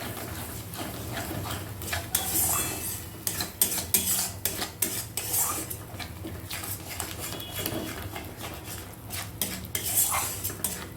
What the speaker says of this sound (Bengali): টক দই দিয়ে কিন্তু গ্যাসের ফ্লেমটা আস্তে দিয়ে বেশ কিছুক্ষণ আমি নাড়বো, মানে কষে নেব।